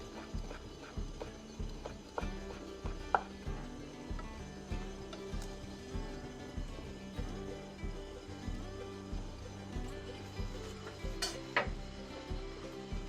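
A knife thinly julienning jujubes on a cutting board for baekpyeon rice cake, making a steady, evenly spaced series of close, crisp taps with no talking.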